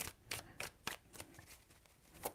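Tarot cards are shuffled in a quick series of about eight crisp riffling bursts, close and fairly quiet, with no voices.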